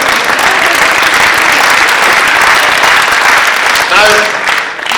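Loud, close crowd applause at a lecture debate on religion and atheism, sustained and dense for about five seconds before tapering slightly at the close.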